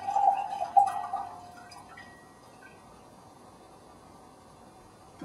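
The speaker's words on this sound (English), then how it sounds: "you've got a nice smooth pour, just like so" Tea poured from a gaiwan into a pitcher while the lid is held back, a smooth liquid stream with a light trickle and drip that is strongest at the start and fades quietly.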